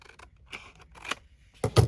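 Scissors snip through paper scraps to shape a bookpage tag, a few quiet, separate cuts close to the microphone, ending in two sharper closing snips.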